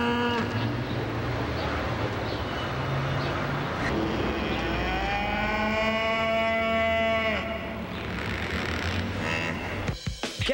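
Cows low in a Chick-fil-A television commercial aired during a college football broadcast: long, drawn-out moos rise and fall over a steady, loud roar like passing engines, ending in a few sharp thumps near the end, with no talking.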